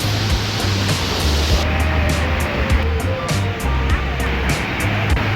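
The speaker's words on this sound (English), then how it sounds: "We are here at the waterfall in Costa Rica." The La Paz waterfall in Costa Rica pours with a loud, continuous rushing roar that fills the whole scene, steady and close.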